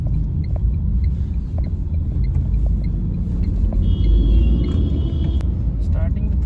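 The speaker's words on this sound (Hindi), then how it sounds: "ऐसा लग नहीं रहा है कि ये CNG में चल रही है गाड़ी" A Tata Tigor CNG car drives along while its engine and road noise make a steady, loud low rumble inside the cabin, with a voice talking over it throughout.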